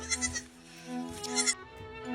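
Goats on a farm bleat several times nearby, wavering calls rising and falling over about two seconds with no talking.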